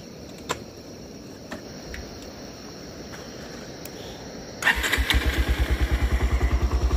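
A motorcycle sits quietly before a cold start, with a few faint clicks, then the engine catches and settles into a loud, steady, rhythmic idle as it warms up, nearby with no talking.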